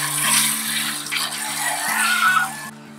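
Milk streaming into a pail as a cow is milked by hand, a continuous rushing, splashing flow like running water, loud and close, with a steady mechanical hum underneath.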